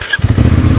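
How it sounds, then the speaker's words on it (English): A motorcycle engine comes in after a short moment and holds a loud, close, throbbing rumble for under a second. "The kids, they want to rev the bike."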